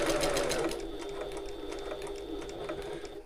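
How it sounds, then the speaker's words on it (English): A sewing machine runs steadily at its longest stitch length, sewing across the turning gap of a fabric bag. The needle strokes form a fast, even, close mechanical whir with a thin steady whine that lasts the whole clip. "increase my stitch length to my longest stitch length and sew"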